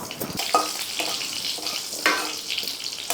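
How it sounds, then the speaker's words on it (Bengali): Dried red chillies, a bay leaf and whole spices crackle in hot oil for a lau chingri tempering, a steady close sizzle with sharper pops and spits breaking through every second or so, no talk. "একই তেলে আমি ফোড়নটা দিয়ে দেবো দিয়ে দিচ্ছি আরেকটু তেল দুটো শুকনো লঙ্কা একটা তেজপাতা"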